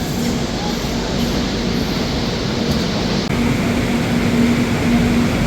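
The Sealdah–New Delhi Rajdhani Express departs Dhanbad station with a steady, loud rolling rumble and a sustained low hum, heard from on board and continuous throughout.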